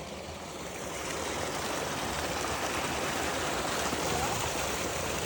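Water from a natural spring runs steadily at a spring resort in Nagcarlan, Laguna, a constant rushing flow like a stream that stays even from start to end without pause.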